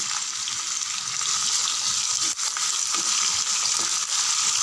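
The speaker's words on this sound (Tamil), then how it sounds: "நல்லா வெங்காயம் 3 நிமிஷம் பாதி அளவுக்கு வதங்கினா போதும்" Onions and green chillies fry in a pan, giving a continuous bright sizzle with crackling hiss, steady and close, with faint stirring clicks and no voices.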